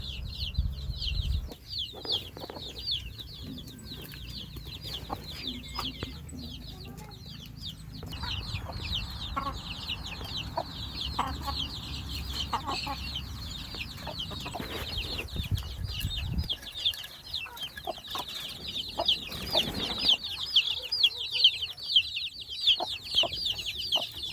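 Many chickens in a backyard coop in Laua-an, Antique, Philippines, cluck and chatter continuously at a moderate distance, with occasional wing flaps and rustling and no voices.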